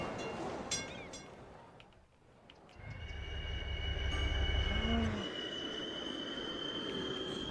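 A passenger train pulls into a station in the city-building game Cities: Skylines, its low rumble swelling and holding, with a brief squeal of wheels and faint chimes, steady and fairly loud.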